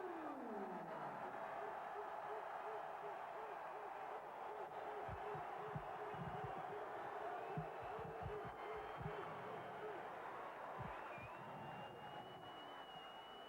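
A packed boxing arena crowd roars steadily for former light heavyweight champion Virgil Hill before a WBA title fight, a dense, continuous wash of distant cheering with a few faint thumps underneath.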